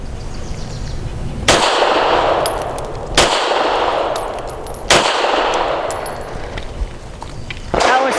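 A Steyr M9-A2 MF pistol firing heavy-grain rounds, four sharp loud single shots spaced about a second and a half apart, each with a ringing tail and faint metallic pings of ejected cases.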